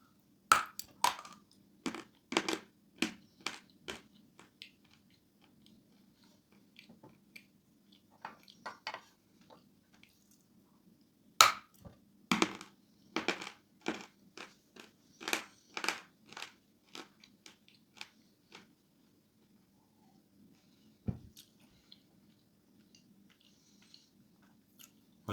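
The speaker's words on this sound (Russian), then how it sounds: "Откусывается, как вы уже поняли, очень тяжело." Crisp biting and crunching into firm Titan variety fruit, sharp clustered snaps in quick bursts separated by pauses, close and fairly quiet with a faint steady hum beneath and no talk.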